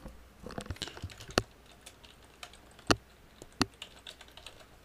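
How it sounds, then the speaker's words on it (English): Light taps on an iPad touchscreen land in quick irregular clusters as a question is typed, faint and close, with a few sharper clicks spread across the moment. "type in a question and send the question"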